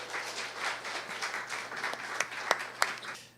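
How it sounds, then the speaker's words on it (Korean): A church congregation applauds to welcome a pastor and his wife, a couple, with a soft, steady patter of many hands from a moderate distance and a few sharper claps near the end. "우리 박수로 환영해 주시겠습니다"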